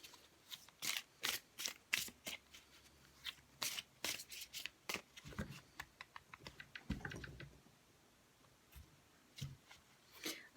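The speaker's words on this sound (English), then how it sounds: "So let me just finish shuffling." Oracle cards being shuffled by hand at a desk: rapid, crisp riffling and slapping bursts in quick irregular succession, close and fairly quiet, with no talking.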